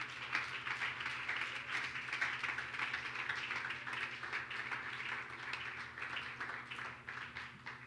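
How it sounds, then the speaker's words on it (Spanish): Church congregation clapping, a soft, steady patter of many hands, fairly faint and distant over a low background hum. "Dele ese aplauso fuerte al Señor."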